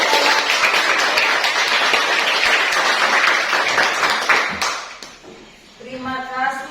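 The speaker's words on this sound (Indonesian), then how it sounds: "Ya, tepuk tangan dulu." Classroom audience applauding together at a teacher training session, a dense sustained burst of hand clapping that fades after about four seconds, followed by a voice speaking.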